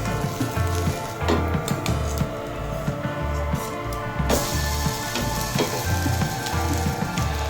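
French toast fries in a pan with a steady loud sizzle, while spatula scrapes and taps recur rhythmically over the hiss throughout.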